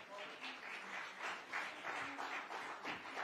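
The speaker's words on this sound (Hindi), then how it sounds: "आप लोग एक बार जरा जोरदार तालियां बजाएं।" Audience applause at a summit awards event, steady rhythmic clapping with a pulsing beat, moderately quiet and distant in the hall.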